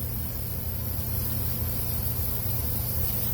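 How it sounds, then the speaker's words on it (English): Steady broadband hiss of gloss urethane spraying from an aerosol can over a model railroad coal load, continuous and close throughout with a low rumble underneath. "just get a regular can of gloss urethane paint or spray"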